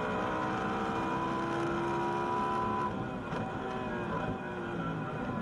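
A Lamborghini Super Trofeo race car braking into the tight Vallelunga hairpin: loud, close engine drone with strong harmonic whine that drops through downshifts around midway, then carries on steadily.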